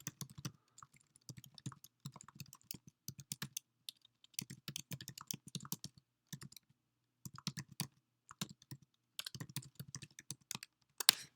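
Typing an email on a computer keyboard, quick clusters of close, soft key clicks separated by short pauses, quiet and alone with no talk.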